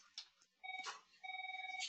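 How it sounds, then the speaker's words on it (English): A mobile phone buzzes and rings softly in the background, two steady pulsing tones each lasting about half a second, separated by a brief pause, faint and distant. "My phone's buzzing."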